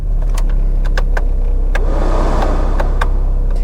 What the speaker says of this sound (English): Do my windows work? Oh yes, of course they do.